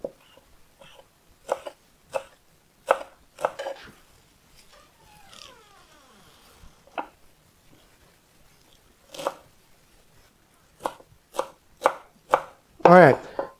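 A knife chops parsley on a cutting board for a beef tongue sandwich in a series of sharp, close thumps, with irregular bursts and short pauses between groups of strokes.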